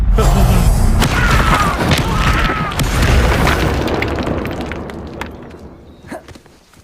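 Repeated Confringo fire-spell blasts in the game Hogwarts Legacy, a dense run of loud booms and bursts that fades toward the end, with a voice shouting spell names over them.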